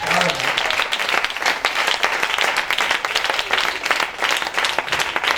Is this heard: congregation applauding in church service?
yes